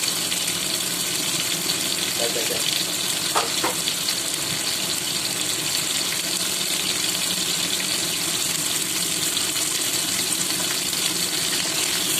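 Labra vegetable curry sizzles in a pan, a constant loud hiss and crackle filling the whole stretch with no talk.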